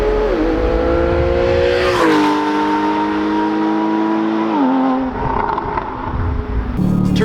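A TechArt Porsche 911 GTS with a naturally aspirated engine revs hard toward its 7,800 RPM redline, a loud, close, rising wail with gear changes dropping the pitch before it climbs again.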